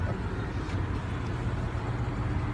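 A 2015 Ford Mustang GT with its 5.0 engine and 435 horsepower gives off a steady, deep engine rumble, continuous and even, close by, with no voices.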